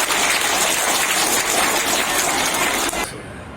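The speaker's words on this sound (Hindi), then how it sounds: "एक बार फिर तालियां सभी के द्वारा इस डायरी के लिए।" Brief burst of clapping from a school gathering at an Independence Day Amrit Mahotsav event, applauding the launch of a school diary; dense and steady, then cutting off abruptly near the end.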